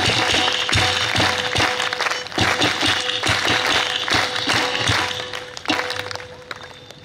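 A satsang crowd at Sagar Park in Jalgaon claps steadily, a dense, continuous patter of many hands filling the space with no pauses, with faint rhythmic surges within the applause.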